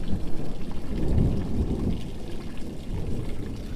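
A thunderstorm in Apache Junction with massive lightning gives steady heavy rain pattering on surfaces under a deep, rolling rumble of nearby thunder, with no voices.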